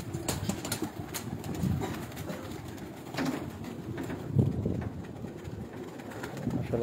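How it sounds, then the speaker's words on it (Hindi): Pigeons on a rooftop coo in soft, low, repeated calls close by, with occasional wing flutters and light background noise, and no talking. "बहुत लाजवाब कबूतर है।"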